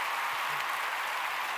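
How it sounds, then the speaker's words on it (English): A brief burst of audience applause, a soft, even patter of many hands clapping continuously with no talk over it. "Wait, let's get you an applause."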